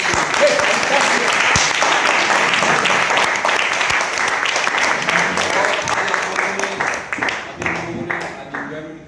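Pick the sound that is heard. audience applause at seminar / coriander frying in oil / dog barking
audience applause at seminar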